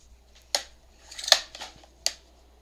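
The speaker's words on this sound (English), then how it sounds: "Hopefully my trimmer will go." A paper trimmer cutting through paper and fabric, heard as a few close, sharp snips and slides, three distinct cuts with fainter rustling between them and no talk.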